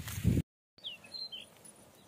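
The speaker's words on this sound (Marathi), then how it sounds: "पक्ष्याचा आवाज येतोय." A small sparrow-like bird sings in a farm field where sorghum is being harvested, faint high chirps coming after a brief burst of nearby rustling and a moment of silence.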